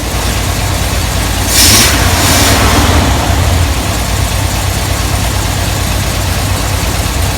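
A Ford 460 V8 runs with a steady, loud, unbroken engine roar that fills the whole stretch, with a brief rise in intensity near the start.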